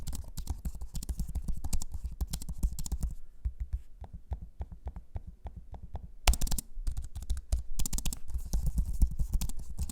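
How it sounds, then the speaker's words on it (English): Keys clatter in quick, uneven bursts on an Asus Zenbook Duo laptop keyboard, broken by a short run of sparser, crisper taps and trackpad clicks before the rapid typing resumes, close and alone. "Here's a sample of me using the keyboard and trackpad so you can hear for yourself what it sounds like."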